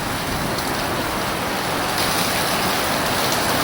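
Heavy rain pours onto a rain deflector on an Irish farmhouse, a dense, steady wash of hissing patter close by, loud and unbroken throughout.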